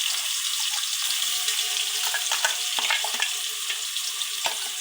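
Ground masala paste frying in a pot, a steady close hiss with scattered stirring clicks and scrapes throughout.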